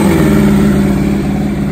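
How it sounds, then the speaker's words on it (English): A loud, steady mechanical whine and rumble from an external starter on a drag racing motorcycle, running continuously at close range. "That is the external starter."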